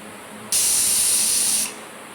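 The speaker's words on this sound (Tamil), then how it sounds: "விசில் வந்துடுச்சு. அடுப்பை ஆஃப் பண்ணிக்கலாம்." A pressure cooker of legumes on a kitchen stove lets out one sustained, loud, high whistling hiss of escaping steam, about a second long, then cuts off.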